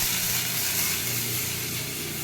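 Onion with a little coconut frying in a pan gives a steady, close, broadband hiss and sizzle that holds evenly throughout, with no talking.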